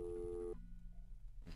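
A telephone busy signal in the 1997 first-person shooter Blood: a loud, steady electronic tone holds for about half a second and then cuts off, leaving low game ambience.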